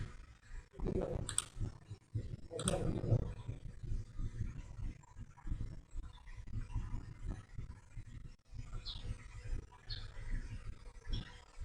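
Mouse clicks while a MetaMask wallet is connected on the PancakeSwap exchange: a few sharp, close clicks, the clearest two early on, over a low, steady room hum.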